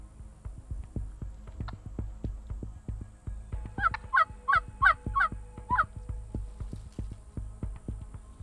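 Wild turkeys in Florida gobble several times in quick succession, loud rattling bursts heard fairly close over low rumbling background noise and faint thumps.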